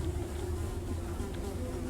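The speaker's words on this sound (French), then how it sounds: "Pourquoi il a des mouches chez lui, frère?" Flies buzz in the video game My Friend Is A Raven, a steady, close insect drone that runs unbroken throughout with no talking.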